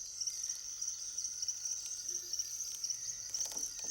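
A cricket chirps in the wild, a thin, high trill that repeats in a steady run over quiet nighttime ambience. It stays faint and somewhat distant, with no voices.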